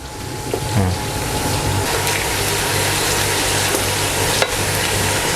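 Meatballs deep-frying in oil in a Chiang Mai street-food style, a steady loud sizzle and bubbling with occasional stirring clinks, close up and continuous with no talk.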